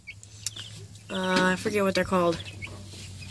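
Meat bird chicks cluck and chirp briefly up close, with a person talking over them.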